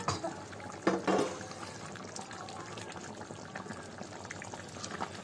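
Chicken with fried fenugreek leaves simmering in a pot, a steady soft bubbling throughout, with a brief louder knock near the start.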